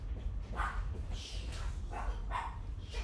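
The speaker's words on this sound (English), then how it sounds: "And my dogs are going to start barking because my kids just came back from the grocery store." Dogs at home bark in a handful of short, separate bursts spread across a few seconds. The barks sound moderately close, with steady low room noise underneath.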